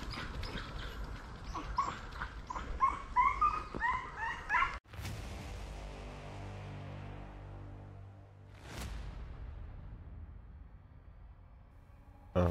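Hunting dogs bark and yelp during a wild boar drive hunt, several excited dogs close by in a dense burst of overlapping barks and whimpers, then abrupt loud cracks with long ringing echoes and fading noise.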